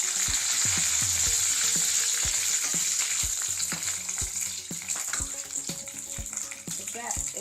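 Curry leaves fry in hot oil for chitranna with a steady, close sizzle dotted with sharp crackling pops throughout, while a voice speaks faintly underneath.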